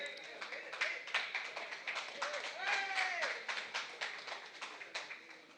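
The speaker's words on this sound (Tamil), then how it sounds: "எல்லா கவிஞர்களுக்கும் இன்னும் ஒரு முறை ஒரே மாதிரி கைத்தட்டுங்க" An audience at a poetry reading gathering claps in a loose, uneven patter of individual hand claps, moderately faint, while people talk over it.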